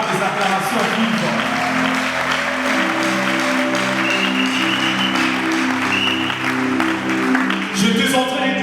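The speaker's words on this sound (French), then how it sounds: "Est-ce qu'on peut l'honorer par des acclamations vives?" A congregation at a theological graduation ceremony claps vigorously and steadily, with sustained tones and cheering voices mixed into the applause throughout.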